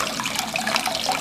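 Water running steadily from a sink tap, a brief continuous splashing rush heard up close.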